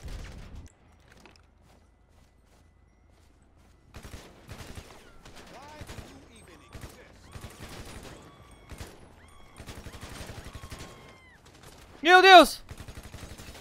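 Machine gun fire from zombies in GTA 5, scattered bursts of gunfire under excited shouting and talk, with one loud sharp burst near the end.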